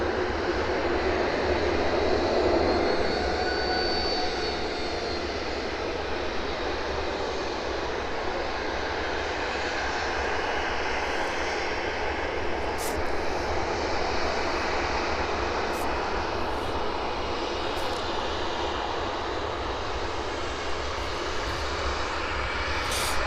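A Mahan aircraft's engines roar steadily while it lines up on runway 09 at an airport, a loud continuous drone with faint higher whines.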